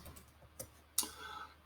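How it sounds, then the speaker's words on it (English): A few sparse, quiet clicks from a computer keyboard, with one sharper tap near the end, in a quiet room and without speech. "Now you're watching my typing skills."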